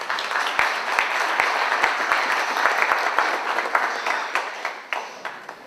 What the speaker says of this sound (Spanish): Démosle una bienvenida con un aplauso